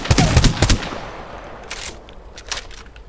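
Gunfire in the video game Apex Legends, a rapid burst of loud close shots followed by a few scattered quieter single shots over a faint background.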